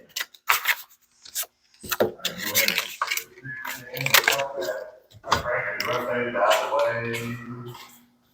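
Rough, rasping scrapes repeat in uneven bursts as sandpaper is rubbed back and forth over a surface, fairly close and moderately loud.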